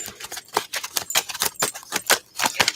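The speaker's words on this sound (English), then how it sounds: "Just going to shuffle all the cards and flip them." Tarot cards are shuffled at close range, giving a quick series of crisp, papery snaps and riffles in uneven bursts, quiet and without talk.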